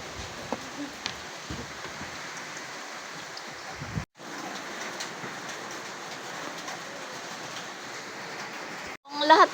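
Heavy rain pours steadily over open farm fields, a dense even hiss with a brief break partway through and some faint clatter near the end.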